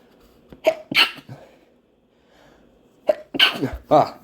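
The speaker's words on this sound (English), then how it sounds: "Hold on, I need to sneeze." A person sneezes up close, a sharp burst with a breathy lead-in, then after a short pause another loud sneezing or coughing outburst.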